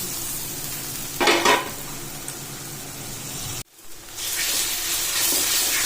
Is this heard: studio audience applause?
no